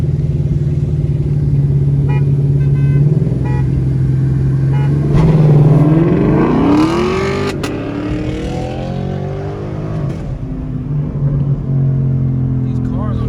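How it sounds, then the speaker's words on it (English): Car accelerating and revving on a road near a JDM car meet, a loud engine drone rising in pitch as it speeds past, with people talking over it. "What's that car doing?"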